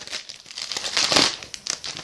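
A Match Attax football card pack wrapper crinkles and tears open, a short burst of close, loud plastic crackling that peaks midway.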